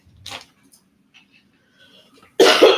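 Coughing from a person during a sale and auction recording: a short muffled cough near the start, then a loud, harsh burst of coughing at the end, with quiet room noise between.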